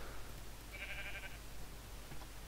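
A Minecraft sheep gives a single short bleat in the middle, faint against a steady low background hum.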